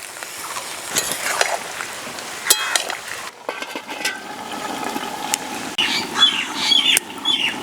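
A katla fish head goes into a pan of vegetables and sizzles, a steady close frying crackle with a few scrapes and stirs, and no talk over it.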